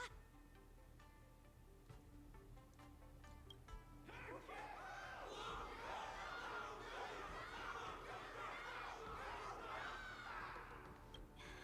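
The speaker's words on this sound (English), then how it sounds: "Can't you hear? Everyone's cheering for you, Luka." A crowd cheers in the Honkai: Star Rail video game after a sportsmanship battle, starting around four seconds in and then holding as a loud, steady wash of voices and chatter over quiet background game sounds.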